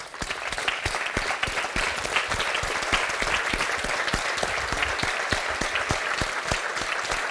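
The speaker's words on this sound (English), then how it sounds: "I would like everybody who's connected with GLOW to stand and applaud everybody in this room for their support." An audience applauds steadily and loudly, with dense clapping throughout and no voices above it.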